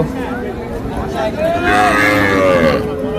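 Friesian cross heifer calves moo at the Hazratpur cattle market, a loud nearby moo swelling in the second half over the background murmur of people talking.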